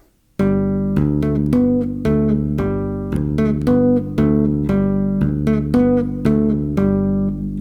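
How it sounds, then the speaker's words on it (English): Bass guitar tapping a melody over a bass line in a dotted-quarter, eighth, quarter rhythm, with crisp plucked attacks in a steady repeating pattern, close and alone without speech. "So here's the other rhythm of dotted quarter, eighth note, quarter note, which sounds like this."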